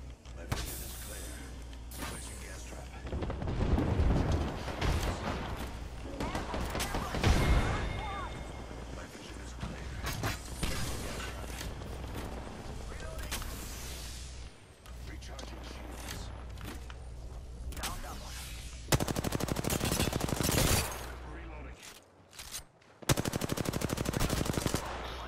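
Turret gunfire in the video game Apex Legends comes in loud, dense bursts with sharp cracks and pauses between volleys. Players talk excitedly over the shooting, and footsteps and thuds are heard between the bursts.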